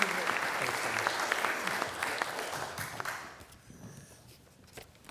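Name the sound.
audience applause welcoming Ambassador Tom Hubbard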